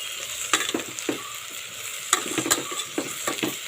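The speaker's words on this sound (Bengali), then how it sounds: "তো আমি ব্যাক ক্যামেরায় ভালো করে এটা নাড়িয়ে চাড়িয়ে দেবো।" Spices including salt, sugar and cumin powder are stirred in a pan for bottle gourd dal, a soft sizzle broken by repeated spoon scrapes and knocks in an uneven rhythm, close up with no voices.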